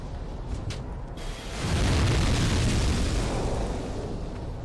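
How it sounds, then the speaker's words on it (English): A loud explosion in the video game Dark Souls 2 swells into a broad, rumbling roar after a brief quieter stretch with a couple of sharp clanks, then holds as a sustained, noisy wash. "Not sure what just happened there, but it ended with an explosion."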